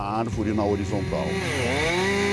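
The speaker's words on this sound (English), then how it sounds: "the men use the large, powerful blade of the chainsaw as though it's a small, delicate tool" A chainsaw carves a wooden sculpture, its engine revving up and down in close, loud bursts of rising and falling pitch.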